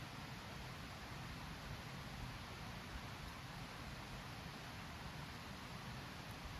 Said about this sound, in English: the rain is getting a bit heavier now